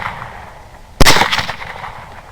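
A single sharp, loud gunshot cracks out at a hog during a night hog hunt, then fades into a short echo over quiet background.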